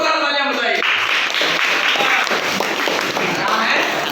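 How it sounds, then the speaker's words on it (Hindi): A classroom full of students bursts into applause for a classmate: dense, loud clapping that begins after a brief moment and continues steadily to the end. "जोरदार तालियां बताइए"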